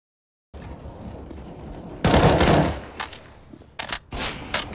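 Rapid automatic gunfire in Counter-Strike: Global Offensive on a deathmatch server, loud sustained bursts broken by short pauses and quieter stretches of gameplay, with no talk.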